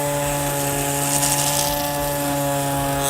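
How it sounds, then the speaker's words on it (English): Power sander fitted with 80 grit sandpaper grinding against the blade of a DeWalt XP tape measure, a loud steady whirring hiss with a constant hum that runs unbroken throughout. "We're going to sand both portions of the tape and see what kind of abuse it can take."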